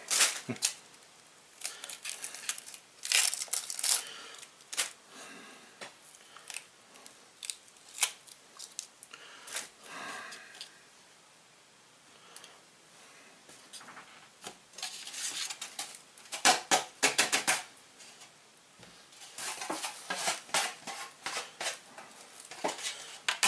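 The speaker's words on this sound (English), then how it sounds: "Scrape some skins off." Vegetable skins are scraped off with a knife for soup, producing close, crisp scratchy strokes in quick uneven bursts separated by short pauses, with occasional light clatter from a board or dish.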